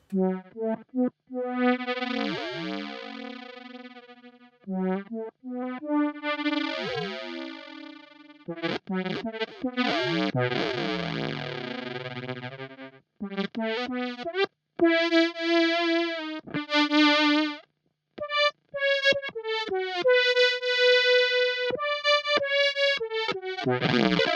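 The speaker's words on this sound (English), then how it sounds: "So the filter and the ring modulator is being modulated by the envelope" A guitar runs through a Meris Enzo synth pedal with ring modulator and envelope filter, producing bright, buzzing, metallic synth notes that swoop and warble as the filter sweeps, played alone in choppy phrases separated by brief gaps.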